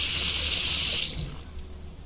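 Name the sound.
water being added in a cooking simulator video game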